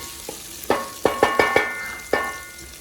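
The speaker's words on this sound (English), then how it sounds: "fry it up a little bit. You don't want to burn this." Ginger is fried in a pan as a utensil clacks and scrapes against it about half a dozen times, each strike sharp and close, over a faint sizzle.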